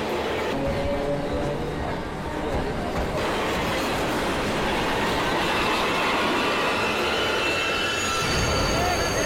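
Moving train with a continuous loud rumble and rattle of wagons on the rails, voices faintly mixed in with the roar.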